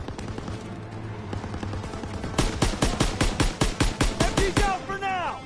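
Rapid bursts of machine gun fire in a World War II video game, a dense run of sharp repeated cracks that starts about halfway in and ends in a ringing, ricocheting tail over a low ambient rumble.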